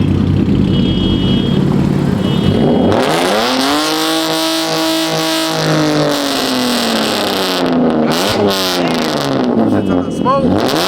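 A Dodge Charger Scat Pack engine is revved to warm up at a big car meet in Las Vegas, rising and falling through loud sustained roars up close, with crowd noise and voices mixed in.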